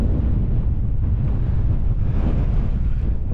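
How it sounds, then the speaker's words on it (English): Steady wind gusting across a lightweight three-season budget tent pitched at an open wild camp, a dense continuous rush and buffeting close to the microphone, with no voices. "See how it sheds that wind?"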